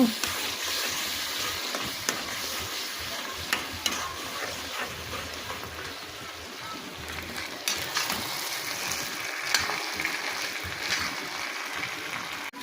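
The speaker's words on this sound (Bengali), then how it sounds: "বুট ভাজি করা হচ্ছে, রান্না করা হচ্ছে।" Chickpeas frying and being stirred in a pan for a home-cooked meal, a close, steady sizzle with scraping stir strokes and occasional clicks throughout, with no talking.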